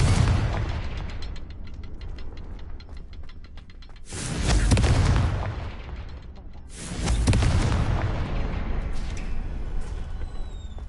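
Fiery Confringo spell blasts from Hogwarts Legacy, two loud booming explosions that swell and roll out over a steady game ambience, each lasting a couple of seconds.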